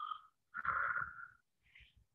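A voice mimics ragged, wheezy monster breathing: a short rasp, a longer rattling exhale, then a softer snorting breath, close and quiet.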